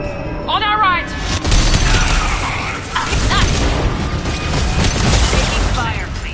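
Gunfire and booming explosions in the video game Mass Effect 2, loud and continuous battle noise with bursts and cracks, while characters speak over the combat.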